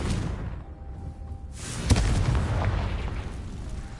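A Confringo spell blasts in Hogwarts Legacy, a single sharp explosive boom about midway through, with a rumbling tail trailing off over low game ambience.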